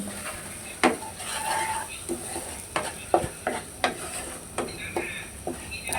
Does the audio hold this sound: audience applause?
no